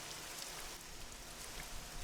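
A constant wash of falling rain, soft and evenly textured, drops spattering on surfaces in an unbroken hiss at fairly low level without talking.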